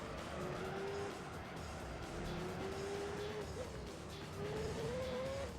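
A race car in Gran Turismo 3 drives over gravel, giving a low, distant engine drone with faint tire squeal and a rough crunching bed of noise throughout.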